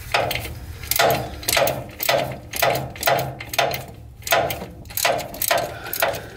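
Ratchet tightening a bolt on a 1988 Ford Ranger, a steady run of rapid clicking strokes in a regular rhythm, close and fairly loud, with no talking.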